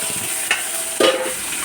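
Ivy gourd (kanchara kaya) tossed in a seasoned pan, with a steady low sizzle of frying broken by two brief scraping stirs of a spoon against the pan, close by.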